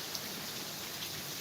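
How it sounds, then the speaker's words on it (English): Hurricane Ian rain falls steadily with wind blowing, a dense, even hiss of drops on surfaces that runs unbroken and moderately quiet, with no voices. "watching the rain fall and listening to the wind blowing"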